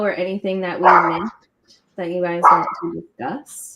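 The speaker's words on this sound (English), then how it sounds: "Sorry for the barking." A dog barks and yips at home during a live chat, the barking mixed under steady talking from a nearby person.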